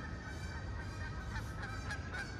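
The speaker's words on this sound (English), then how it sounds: "I guess we're gonna be hearing geese for the rest of the video" A flock of geese honks repeatedly outdoors, several calls overlapping in a steady, fairly loud chorus with no talking.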